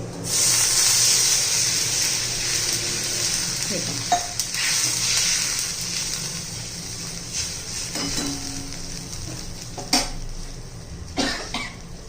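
Water added to a pan of fried chillies sends up a strong, steady sizzle and hiss that slowly eases, with a few close utensil knocks and clinks scattered through it.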